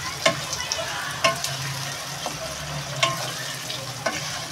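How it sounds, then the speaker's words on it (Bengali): Tomato and green chilli fry in a pan with a soft, continuous sizzle, broken by a regular series of sharp clicks as a utensil stirs and taps against the pan. "বন্ধুরা আমি এবার এই যে টমাটোটা দিয়ে দেবো, আর এর সাথে এই কাঁচা লঙ্কাটাও দিয়ে দেবো।"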